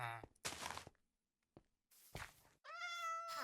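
A cat meows in the video game Minecraft, a high rising harmonic call near the end after a few brief thuds and soft footstep-like knocks.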